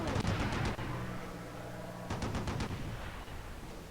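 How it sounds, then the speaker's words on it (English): Bomb explosion effect in the strategy game Civilization III, set in a World War 2 Germany scenario: two bursts of rapid, rattling blasts, one at the very start and another about two seconds later, each dying into a low rumble, with no talk. "They have a cool bomb effect"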